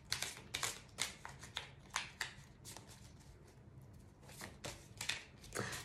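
Playing cards being shuffled in a series of short crisp riffling bursts, fairly close and quiet, with brief pauses between them and no voices.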